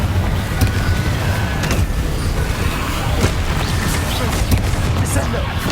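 A Confringo blasting spell erupts in the Hogwarts Legacy video game, a loud, dense burst of booming, crackling explosions running the whole way, with a spoken incantation mixed in.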